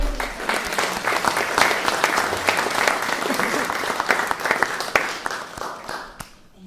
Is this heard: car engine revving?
no